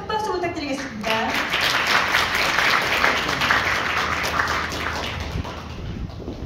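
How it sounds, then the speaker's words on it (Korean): Audience applause follows the introduction of a Kyungpook National University professor at a Gumi city policy forum, steady dense clapping for several seconds with a faint voice at the start. "큰 박수 부탁드리겠습니다."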